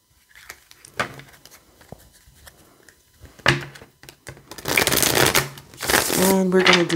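Crisp riffles and snaps of a card deck being shuffled several times, with a person speaking over the later part.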